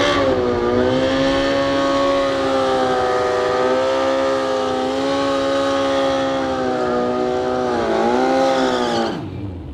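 A drag racing motorcycle, such as a BMW or Suzuki Hayabusa, screams at high revs on the strip at Toronto Motorsports Park, one loud sustained engine wail with slight pitch wavers that drops away abruptly at the end.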